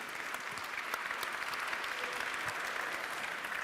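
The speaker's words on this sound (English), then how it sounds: "Please have a round of applause just to start with some energy for the speakers." A conference audience at a manufacturing round table applauds steadily and evenly throughout, a dense, sustained clapping from a crowded room.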